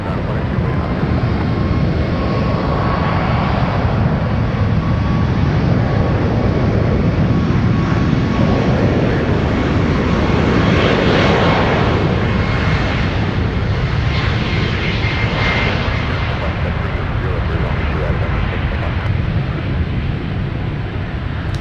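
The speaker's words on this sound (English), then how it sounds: "Alright, Air Canada powering up." An Air Canada airliner's engines power up for takeoff with a loud, sustained roaring rumble that holds steady for over twenty seconds, with faint voices underneath.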